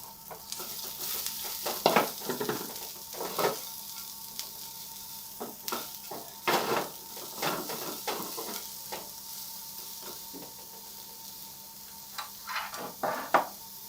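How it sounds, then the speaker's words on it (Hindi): Sliced capsicum and a piece of cabbage sizzle in a hot pan, with repeated scraping stirs and clatters breaking through the steady close frying hiss. "हल्के से फ्राई करेंगे, सिर्फ 2 और 3 मिनट के लिए।"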